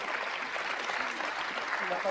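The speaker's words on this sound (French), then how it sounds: "Vous méritez des applaudissements, s'il vous plaît." Soft, continuous applause for a panel at a chronic malnutrition conference, an even patter of clapping heard somewhat distantly in a large room.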